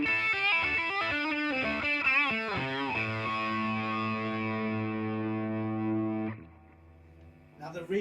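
A distorted electric guitar through a Laney Cub 12R combo amp with the gain all the way up plays a quick run of notes, then holds a long sustained chord with a thick, saturated tone that rings out and fades.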